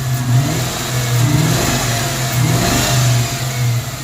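A 1994 convertible with a rough-running engine and a failing TFI ignition module revs up and holds a strained, wavering roar, rising and falling in pulses over several seconds, close and loud, with no talk.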